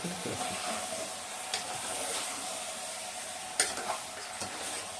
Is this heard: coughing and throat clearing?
no